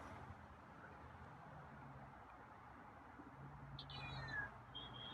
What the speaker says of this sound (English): Okay, there's a quiet meow.